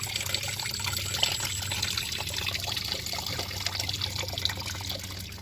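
Water gushing steadily from a natural spring-like outflow on the Padma river near Rajshahi, a constant, moderately loud broadband rush with no pauses and no voices.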